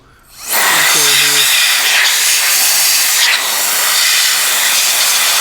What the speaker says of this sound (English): So you want to blow that out. Compressed air is great for that.